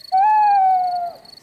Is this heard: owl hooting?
yes